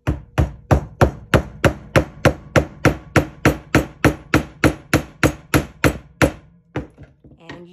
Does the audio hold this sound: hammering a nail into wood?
yes